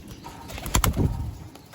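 A short, soft coo from a female racing pigeon sounds close by, with a couple of quick fluttery notes in a quiet setting.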